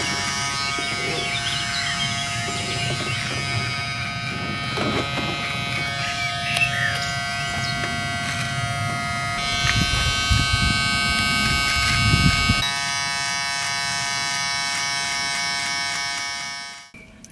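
An electric shaver buzzes steadily and close up throughout, a continuous motor drone with small shifts in pitch as it moves over stubble, getting rougher and louder in the middle before being switched off near the end.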